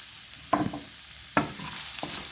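Half a grated coconut roasting in a pan gives a soft background sizzle, with a few distinct spatula scrapes and stirring knocks at irregular intervals.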